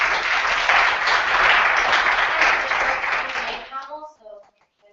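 Audience applause for a panel of speakers, a full, dense burst of clapping that carries steadily for several seconds, then fades out as a voice begins to speak.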